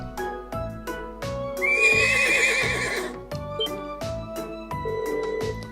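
A young horse in the Trails of Cold Steel video game lets out one loud, close whinny lasting about a second and a half. Game music plays with a repeating bell-like ring throughout, and there is no talk.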